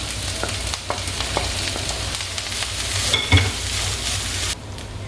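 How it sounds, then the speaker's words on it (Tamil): Grated coconut sautéing in a pan with onion and green chilli for elephant foot yam kola urundai, a steady close sizzle broken by scraping stirs and a brief louder clatter near the end. "இப்போ இந்த தேங்காயை போட்டு நல்லா வதக்குங்க"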